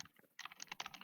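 Rapid light clicking, probably on a computer keyboard, comes as a quick irregular run of soft taps that is faint and close, with no talking over it.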